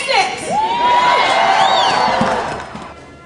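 Teachers and families at a rally at the Oregon Capitol cheer and whoop loudly, with rising shouts and yells swelling together and then easing off.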